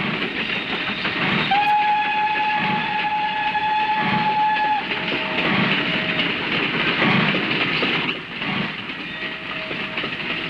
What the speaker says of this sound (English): It's a replica of the Scottish locomotive built to carry Queen Victoria from London to Edinburgh.